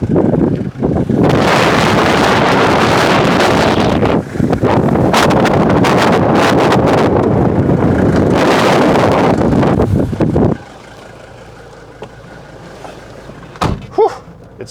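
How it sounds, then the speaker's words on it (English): Strong wind buffets the microphone in loud, continuous roaring gusts for about ten seconds, then drops off abruptly to near quiet with a few faint knocks. "It's very windy today."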